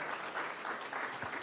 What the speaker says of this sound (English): Let's give a round of applause to Deb Cools